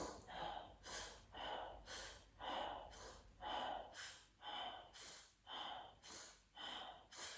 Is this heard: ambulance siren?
no